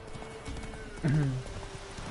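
Horse hooves plod along in The Witcher 3, a steady clip-clop under game ambience, with a short, close neigh-like call rising about halfway through.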